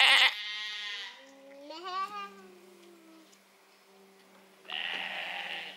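Sheep in a flock bleat loudly and close by at the start and again near the end, with a softer voiced, wavering sound in between.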